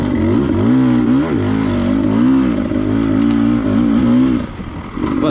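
An enduro dirt bike engine on a mountain single-track trail revs up and down repeatedly, loud and close, with a rough wavering drone that drops off near the end.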